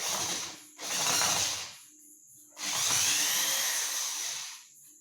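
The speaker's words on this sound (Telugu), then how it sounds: "స్క్రూ అనేది రిమూవ్ చేస్తున్నాను." A power drill runs in reverse to back a screw out of wood: two steady whirring runs close by, separated by a short pause.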